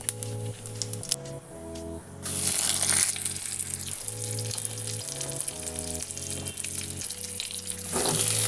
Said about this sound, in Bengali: তেলটা গরম হয়ে গেছে ফোড়নে দিচ্ছি আমি কালো জিরে আর রাঁধুনি